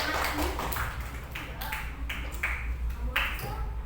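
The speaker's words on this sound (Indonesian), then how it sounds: "Beri tepuk tangan kelompok tiga, silakan" Classroom students applauding a presenting group, a few scattered claps standing out distinctly against a murmur of background voices, close and irregular rather than a sustained ovation.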